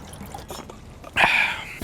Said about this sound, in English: I'm gonna pour myself a little drink here